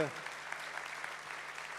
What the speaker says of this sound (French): Je crois qu'on peut applaudir François Braun et à travers lui le SAMU.